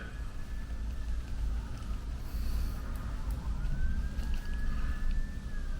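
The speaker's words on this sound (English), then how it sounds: "I hear a siren." A distant siren wails faintly, rising and falling over steady low background rumble; no one speaks.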